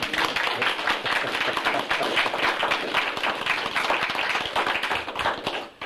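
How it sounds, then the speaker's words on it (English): An audience at an antique toys talk gives a gentleman a round of applause, with close, dense clapping from a room of people, loud and continuous until it tapers off at the very end. "I think we ought to give this gentleman a nice big round of applause."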